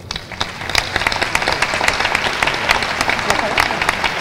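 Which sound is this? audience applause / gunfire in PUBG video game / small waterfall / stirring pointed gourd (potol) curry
audience applause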